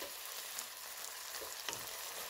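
Ethiopian tibs meat fries in a pan with barely a teaspoon of oil, giving a steady close crackling sizzle with faint stirring scrapes and no voices.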